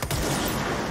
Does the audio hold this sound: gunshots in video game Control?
yes